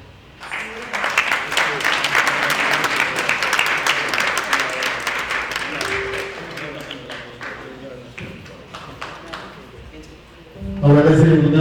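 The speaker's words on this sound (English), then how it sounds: "let's give another round of applause for Eugene Spell" Audience applause at a Christmas gala and awards ceremony, dense clapping from a crowd sustained for about ten seconds before fading, then a burst of louder sound near the end.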